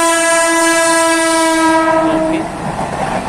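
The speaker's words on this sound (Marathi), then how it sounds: "ही पण लोकल ट्रेनच आहे" A local train sounds a long, loud, sustained horn at a railway station, then the rumble of its wheels on the tracks takes over as it passes close by.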